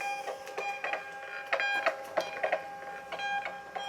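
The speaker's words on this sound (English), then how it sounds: "now I'm going to print these labels" A small Nelco thermal label printer feeds out shipping labels, giving a run of quiet rapid whirring and clicking bursts that rise and fall at close range, with no voices.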